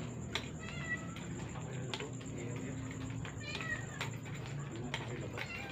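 A cat meows repeatedly in a cemetery at night, a run of short, fairly close mews spaced through the clip over a steady hum of background noise.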